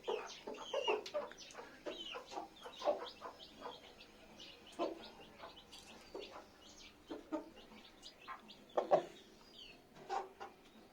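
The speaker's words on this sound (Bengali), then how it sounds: "এই মোরগটা খুবই ভালো মোরগ" Chittagong hill breed chickens, with a rooster and hens among chicks, give soft, scattered clucks and short calls at an uneven rhythm. The sounds are fairly faint and a little distant, with no talking.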